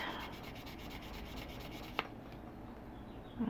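Sandpaper rubs steadily back and forth over small handmade metal ear wires for chandelier earrings, a close, soft scratchy rasp that thins out halfway through and is broken by one sharp tap.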